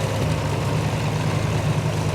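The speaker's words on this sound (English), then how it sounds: "Good looking Ford tractor there." Old Ford tractor in a small-town parade idling nearby, a loud, steady low engine rumble with an even, continuous throb and no talk.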